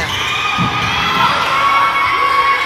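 Spectators at an elementary school basketball game cheer and shout loudly, a dense sustained crowd roar with children's voices throughout.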